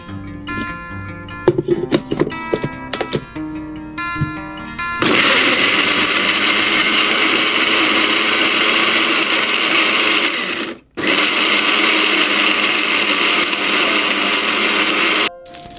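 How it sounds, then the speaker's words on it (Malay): After a few seconds of clattering and knocks, a blender roars loudly and continuously, cutting out briefly once before whirring again. "ini bahan-bahannya yang kita nak blender"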